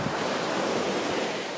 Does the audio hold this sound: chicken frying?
no